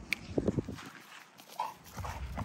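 A tricolor puppy moves about indoors with light padding steps and a few soft dog sounds, fairly close, with no talk.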